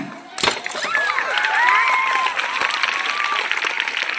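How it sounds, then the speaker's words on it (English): An audience claps for a children's karate performance at a school: a sudden sharp burst of applause, then sustained clapping mixed with crowd noise, children's shouts and high whistling cheers. "Ready, clap them."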